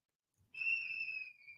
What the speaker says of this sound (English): kiddo is running through the house blowing a whistle